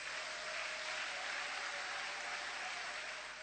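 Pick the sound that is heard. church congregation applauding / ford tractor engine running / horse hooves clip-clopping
church congregation applauding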